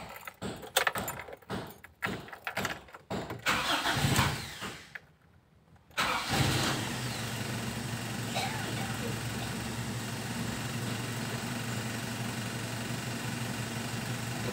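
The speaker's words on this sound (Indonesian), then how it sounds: "Kita coba starter." A 1997 Toyota Kijang with a carbureted engine: a few clicks and keys jangling, a pause, then the engine cranks and catches, settling into a steady idle close by.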